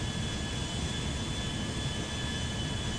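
A modded Concorde jet flying in the video game GTA 5, giving off a steady, dense engine roar with a thin whine running through it, unbroken for the whole stretch and with no talking.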